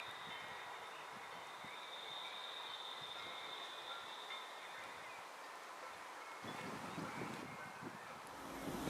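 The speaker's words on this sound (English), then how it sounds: "An intercity train with recently refurbished IC 2000 coaches passes by" An intercity train of refurbished IC 2000 coaches rolls by at a distance, a faint steady rumble with a thin high whine, swelling into closer rattling rail noise near the end.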